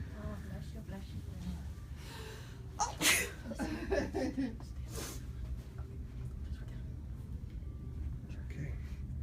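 A single sharp sneeze in a cold indoor bodywork class room, a sudden burst midway through a quiet stretch with faint background murmur.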